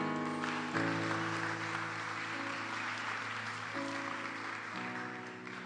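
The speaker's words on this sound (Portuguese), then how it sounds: "Alguém pode aplaudi-lo aqui?" A church congregation applauds during a service, with dense, sustained clapping over steady held musical chords. The applause fades slightly toward the end.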